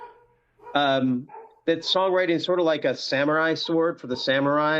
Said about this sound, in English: Sorry about my dogs, man.